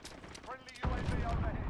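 Gunfire in the PC multiplayer shooter Modern Warfare, a burst of rapid shots that cuts in sharply partway through and keeps rattling loudly to the end, with brief voice callouts heard before it.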